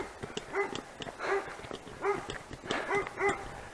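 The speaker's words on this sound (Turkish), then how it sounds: "Köpekler karşılamaya başladı." Several dogs barking along a forest trail near Manavgat, repeated sharp barks in irregular bursts from fairly close by, with no talk over them.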